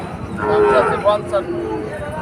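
A heifer calf at a rural cattle market gives one drawn-out moo up close, over faint market chatter and background noise.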